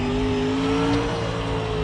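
Race car engine in an iRacing dirt late model simulation, a steady loud drone of continuous acceleration with a sustained engine tone throughout, no talk.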